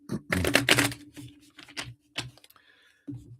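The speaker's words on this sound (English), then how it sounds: "Shuffle that up a little more." Brief crisp riffling of tarot cards being shuffled in a couple of quick bursts, close by, with short pauses and a soft tap between.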